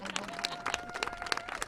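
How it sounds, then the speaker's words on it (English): An audience applauding legislators at a bill-signing ceremony on reproductive health, with steady, moderately faint clapping from a room of people and a faint tonal hum underneath. "can you give them a round of applause for what they achieved"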